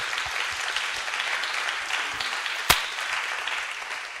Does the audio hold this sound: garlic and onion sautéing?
no